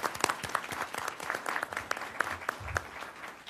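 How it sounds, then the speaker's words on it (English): An audience at a school governing board meeting claps for a few seconds, a dense patter of many hands at moderate distance with no voices over it. "One more round of applause to this one."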